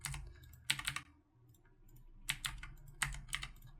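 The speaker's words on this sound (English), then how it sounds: "as I type in numbers from here" Fingers typing numbers on a computer keyboard: two quick clusters of crisp key clicks separated by a short pause, close and clear with no talk.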